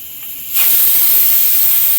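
A loud, sudden hiss of steam bursts from a pressure cooker and keeps going steadily, close and with no voices.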